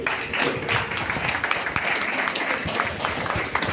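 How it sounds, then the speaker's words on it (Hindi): Audience at a health care training session applauds with uneven, scattered clapping, a moderate patter of individual hand claps. "तालियां इतनी कमजोर क्यों है?"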